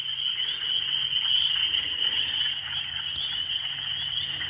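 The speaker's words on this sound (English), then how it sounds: "No, these are spring peepers." Spring peepers, small frogs, call outdoors in a dense, continuous high-pitched chorus, steady throughout at moderate loudness with a low background hum.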